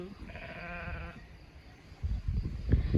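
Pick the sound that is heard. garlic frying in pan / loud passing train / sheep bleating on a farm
sheep bleating on a farm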